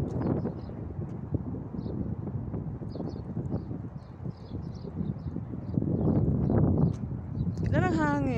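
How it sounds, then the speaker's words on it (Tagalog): Strong, steady wind buffeting the microphone outdoors, a continuous loud rumble that swells louder toward the end, with people talking and a voice rising over it. "Grabe kahangin."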